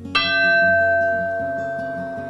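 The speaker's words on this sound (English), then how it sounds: "I got the train bell up at Kohala" A single strike of an old train bell from Kohala rings out loud and close, its bright metallic tone sustaining and slowly fading.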